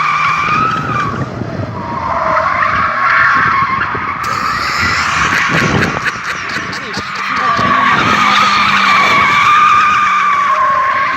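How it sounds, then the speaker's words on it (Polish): Car tire burning out and skidding on a drift or burnout event, a continuous loud screech with engine roar throughout, shifting slightly midway, with voices talking over it. "teraz ta się pali opona"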